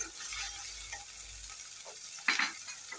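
Cumin paste sizzles in hot oil while a shrimp bhuna fries, a steady close crackle with a brief louder stir or clatter near the end.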